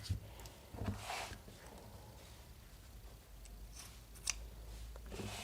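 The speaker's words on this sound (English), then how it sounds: "So you just take your scissors and just snip across like that." Scissors snip across fabric and zipper ends while a clutch purse is being trimmed, a few sharp quiet cuts near the start and another crisp snip later, set against faint room noise.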